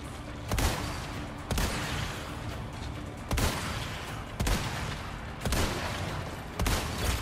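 Enemy gunfire in Resident Evil 4 Remake crackles in loud bursts, a sharp shot landing roughly every second over a dense, noisy background of combat.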